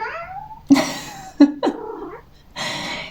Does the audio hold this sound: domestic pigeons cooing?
no